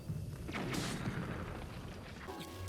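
A low boom from an explosion in The Legend of Zelda: Breath of the Wild, followed by crackling burst sounds and rumbling noise, fairly quiet overall.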